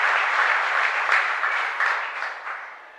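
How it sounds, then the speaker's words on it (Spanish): A church congregation applauds a visiting priest during Mass at the Medalla Milagrosa parish in Zeballos Cué: dense, close clapping that swells briefly, then fades toward the end. "un fuerte aplauso de gratitud para él por venir a"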